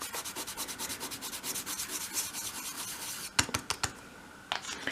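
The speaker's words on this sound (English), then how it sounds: "just going to take a bit of the black and just create a bit of chalk dust on this piece of card" Black chalk rubs back and forth on a piece of card in quick rhythmic scrubbing strokes, close and soft, ending with a few sharper scrapes and taps.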